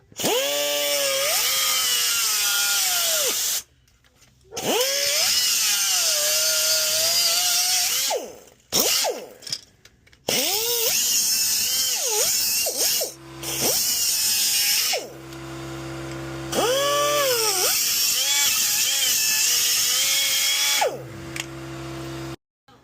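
A power tool trims exhaust pipe on a 1962 Chevy Biscayne in several long, loud, whining bursts, the pitch rising and falling as it bites into metal, with short pauses between cuts and no talking.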